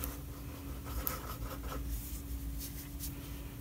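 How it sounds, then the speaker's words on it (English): A purple Pilot Frixion fineliner pen scratches lightly across paper up close, soft intermittent strokes with short gaps between them over a faint steady hum. "I love how that purple writes."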